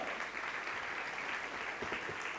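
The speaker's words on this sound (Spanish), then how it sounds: "Denle un aplauso fuerte al Señor." A church congregation claps in praise during a sermon, a faint, steady wash of applause heard at a distance with no talking.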